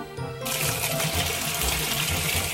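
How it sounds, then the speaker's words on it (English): Leftover water is dumped out of the water tub of a Gemini Taurus 3 ring saw, a sudden close splashing gush that keeps pouring steadily. "dumped out what's left of the water"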